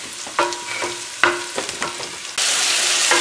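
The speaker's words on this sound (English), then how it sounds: "we added our sauce to the sauteing vegetables" Vegetables sautéing with sauce in a pan for quick pasta, a steady sizzle broken by several scraping stir strokes, then a louder, continuous hiss of frying near the end, close and with no voices.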